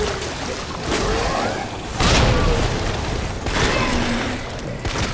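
A grenade blast in the Resident Evil 2 video game booms out as a broad, loud burst, and a rumbling game soundscape follows it with further heavy impacts.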